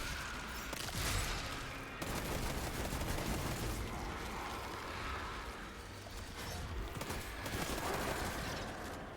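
Machine gun fire in Destiny 2, rendered as dense, continuous rapid bursts of gunfire with short pauses between volleys, loud and sustained throughout.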